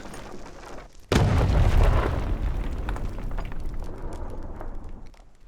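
A lit bomb in a video game goes off with a single sudden, loud booming explosion, followed by a rumbling tail that slowly fades over several seconds.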